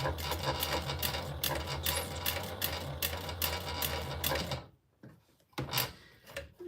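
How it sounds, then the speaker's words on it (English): A sewing machine whirs steadily while stitching fabric for a sling, then stops and gives a few short bursts and clicks near the end. "I like to sew mine down and then trim it down"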